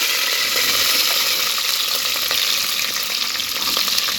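Curry leaves and jackfruit frying in a pan give off a loud, continuous dense sizzle and crackle, with soft scraping and rustling from stirring running throughout and no talking.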